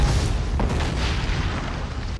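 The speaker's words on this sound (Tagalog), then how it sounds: "Sunod-sunod ang pagsabog sa Besham." Airstrike explosions in a war film set in Afghanistan: a deep, rumbling boom fills the whole stretch, loud and sustained, with no talk.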